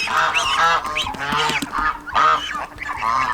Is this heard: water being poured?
no